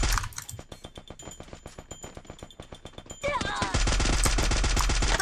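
Rapid automatic gunfire in the Free Fire battle royale game, a long evenly spaced burst of sharp shots, then a louder, denser stretch of shooting and chatter with a voice over it.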